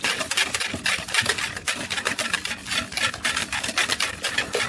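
Egg mixture for French toast whisked briskly in a bowl, a rapid, continuous rhythmic scraping and tapping at close range with no talking.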